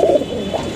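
Caged baby pigeons coo close by in two short, soft, throaty bursts within under a second.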